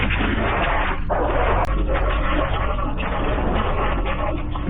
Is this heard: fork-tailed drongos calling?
no